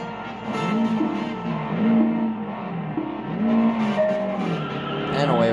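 An AC-289 car engine in the racing game Test Drive Unlimited, during an Ala Moana club race, revs in steady rising and falling sweeps and hums continuously at moderate loudness with a few tire-squeal-like tones.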